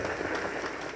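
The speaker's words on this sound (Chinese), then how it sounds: "我建议大家，我们给他热烈鼓掌，热烈鼓掌" Rally crowd applauding a candidate for Tainan mayor, a dense, steady wash of clapping hands that fills the whole moment without letup or clear talk.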